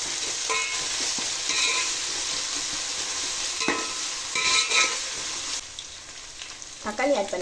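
Ginger sizzling in hot oil as a spoon stirs it through the pan for a hotel-style potato brinji, a bright steady crackle broken by clinking stirring strokes, loud and close.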